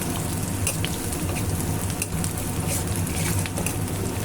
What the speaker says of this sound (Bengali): সুন্দর করে ভেজে নিব